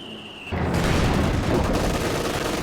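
Panzer tank gunfire in a strategy video game bursts in loudly after a quiet start, a dense continuous rumble of shots and booms without a break.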